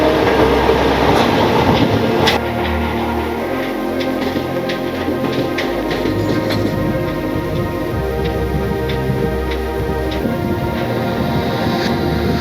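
Loud, steady rumble of a train running on the Puri to Gopalpur coastal line in Odisha, with rhythmic clacking of wheels over rail joints throughout.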